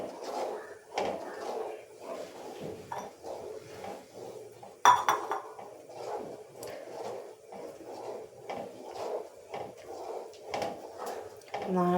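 Steady scraping and clinking of a utensil stirring a thickening mixture in a pan, rhythmic and close, under a person talking throughout.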